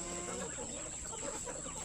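Free-range village chickens (ayam kampung) cluck softly and continuously at a farm during feeding, a busy low chatter of many birds under a steady high-pitched background whine.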